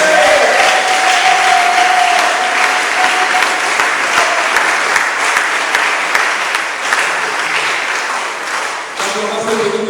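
A church congregation applauding Jesus Christ during a closing worship service, sustained dense clapping for about ten seconds, loud and close, with faint voices mixed in.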